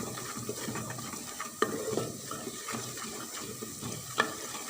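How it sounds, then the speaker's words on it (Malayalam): Spices including chili powder, Kashmiri chili powder and turmeric are stirred and sautéed in a pan for a fish curry, with soft frying hiss and intermittent scraping clinks. "എല്ലാം വഴറ്റുക."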